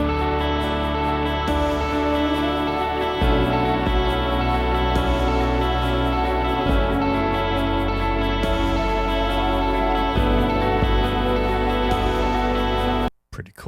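A reversed, crossfaded guitar lick repeats continuously as a song intro, with swelling, backward-sounding notes layered over a sustained pad. The loop runs loud and steady for about thirteen seconds before a sudden cut.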